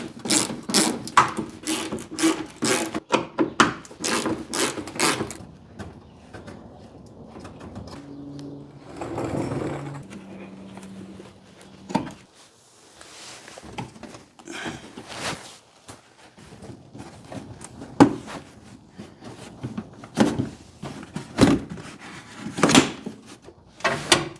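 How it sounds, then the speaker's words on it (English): Fender flare bolts being unscrewed during a rear bumper install on a vehicle: bursts of rapid mechanical ratcheting and whirring come in irregular clusters, with clanks and handling knocks between them, close by and without speech. "I'm just gonna unscrew these bolts here"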